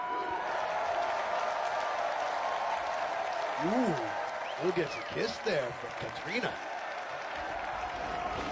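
A wrestling crowd at a lucha libre main event applauds and cheers in a sustained, roomy wash of noise, while a commentator speaks over it.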